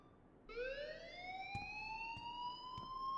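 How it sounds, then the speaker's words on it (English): An alarm in the video game Life is Strange Remastered, a rising electronic wail sweeping upward and holding steady for about three seconds, with a few sharp clicks cutting in, loud and alone. "please turn off that alarm since that's your job"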